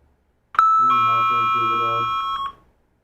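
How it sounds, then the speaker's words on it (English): A doorbell sound effect gives a single loud ding-dong chime that rings out for about two seconds before cutting off, standing alone without talk. "Ding dong."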